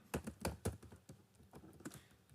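Quick bursts of clicky keystrokes on a computer keyboard, close and fairly quiet, with short irregular pauses between clusters and no talking.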